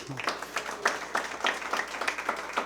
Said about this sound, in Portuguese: Dê uma salva de palmas aí.